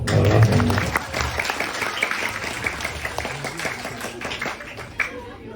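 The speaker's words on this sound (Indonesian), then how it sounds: "Tepuk tangan untuk Pak Haji" Audience applause breaks out at an Islamic religious gathering for a Maulid Nabi celebration, steady clapping from a crowd that swells at the start and then carries on evenly, with voices mixed in underneath.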